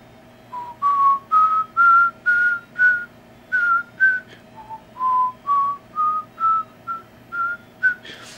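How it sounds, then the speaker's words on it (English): Simple Sun SPOT tone generator playing a sequence of short, clear beeping tones in a steady rhythm, each note separate and slightly stepping in pitch, faint and alone without talk. "if we connect it up by hitting this wire, you can hear the tone."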